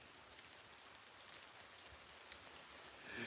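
Rain falls outside in a steady, faint hiss, with a few slightly sharper drips scattered through it and no talking.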